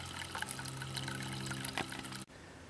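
Water trickles and splashes steadily from a grow bed back into an aquaponics fish tank, a close continuous flow with a low pump hum, stopping abruptly near the end.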